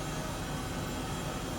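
Steady broadband rotor and turbine roar of an Airbus H135 helicopter in flight in Microsoft Flight Simulator 2020, a continuous even wash with no distinct beats, moderately quiet and unbroken.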